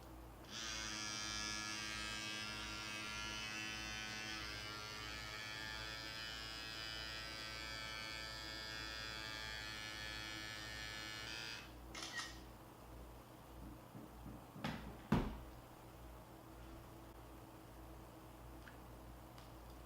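An electric lip plumping suction device runs with a steady buzzing motor hum for about twelve seconds, then cuts off, followed by faint handling clicks and a sharp knock.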